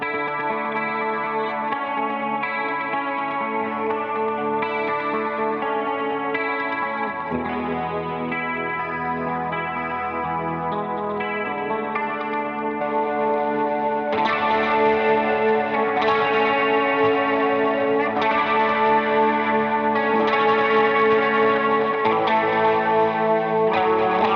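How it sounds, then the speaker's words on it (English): An electric guitar runs through a Line 6 HX Stomp XL multi-effects pedal with echo, chorus and distortion, playing sustained layered chords and melodic lines that grow louder and brighter partway through, with no voices. "And some echo."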